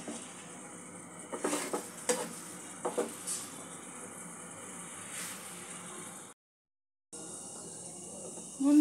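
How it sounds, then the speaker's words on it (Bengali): Spice paste (masala) with a little added water being stirred and sautéed in a pan for Bengali pabda fish curry: faint, intermittent spatula scrapes and light clinks over a soft, low sizzle, with a brief silent gap. "সামান্য একটু জল যোগ করব মশলাটা কষিয়ে নেওয়ার জন্য"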